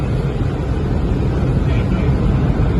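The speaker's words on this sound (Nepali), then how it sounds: "पुरा साबुन लगायो अब पानीले धोइरहेछ" Automatic car wash spraying rinse water over a car, heard from inside as a loud, dense, steady rushing roar with low rumble and no distinct breaks.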